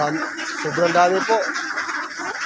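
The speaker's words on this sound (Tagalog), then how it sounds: "Pakita ko sa inyo kung paano niya inalagaan yung itik niya." Ducks quacking on a duck farm at feeding time, a cluster of nasal calls close by, mixed under a voice speaking over them.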